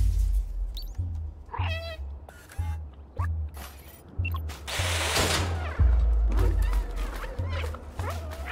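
A stray cat in the game Stray gives repeated short meows, several brief cries spaced over a few seconds against a low, rumbling background with intermittent thumps.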